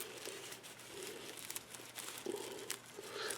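A small decorative floral hat and its brim are folded in half, giving soft continuous crinkling and rustling of the material at close range, with no talking.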